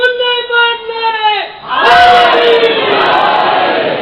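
A crowd bursts into a loud, massed shout of a religious slogan, following a sustained single voice leading the call, the group's roar holding strong and dense to the end.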